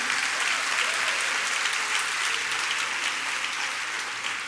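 A round of applause from an audience at a talk, a steady wash of many hands clapping together, fairly even from start to finish with no speech over it.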